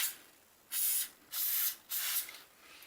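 Three short bursts of spray hiss from an aerosol can of WD-40 or vegetable oil, close and distinct, each about half a second long, with brief quiet gaps between them.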